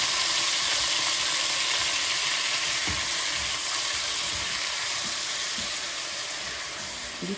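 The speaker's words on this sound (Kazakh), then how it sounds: "Қызғаннан кейін етімізді қуырып аламыз." Meat frying in hot sunflower oil in a pan, a steady close sizzle that crackles evenly throughout and fades slightly toward the end, with a few faint stirring knocks and no talking.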